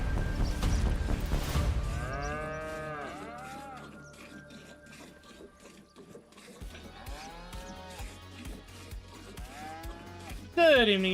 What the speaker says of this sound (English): Let's go down here and check out our cows.